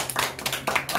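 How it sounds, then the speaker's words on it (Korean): An audience at a Korean lean startup class session clapping, a brief patter of many hands close by. "이분 박수 쳐주세요. 박수."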